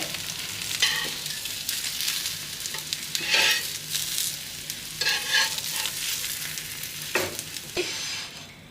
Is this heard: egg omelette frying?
yes